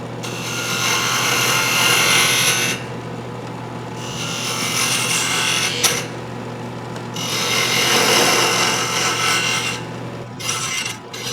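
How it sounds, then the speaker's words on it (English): A woodturning tool cuts a cove into a wooden Christmas ornament spinning on a lathe, giving loud, rasping scraping passes in several long bursts separated by brief pauses. "Now as I make the cove, I want to cut down from the left side, cut down from the right side."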